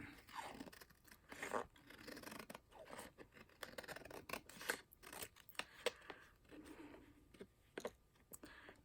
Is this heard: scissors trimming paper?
yes